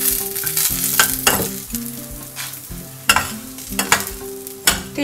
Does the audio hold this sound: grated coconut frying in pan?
yes